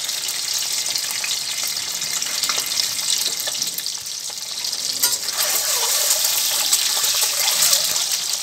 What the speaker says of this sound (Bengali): একটু শ্যালো ফ্রাই করে নেব ডিমটা